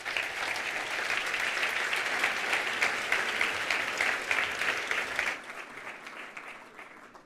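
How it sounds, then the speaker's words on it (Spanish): Audience applause for a speaker at a cultural presentation event, a sustained dense wash of clapping that stops abruptly near the end, leaving a quieter room tone. "Un aplauso para don Ignacio, por favor."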